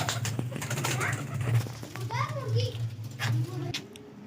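Breeder pigeons coo softly in short rolling calls while someone talks nearby and a voice is heard in the background.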